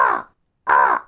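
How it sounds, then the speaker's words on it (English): A crow caws twice, loud and close, two harsh calls separated by a short pause, with no other sounds around them. "Just alighting in the top of a tall tree was Blacky the Crow."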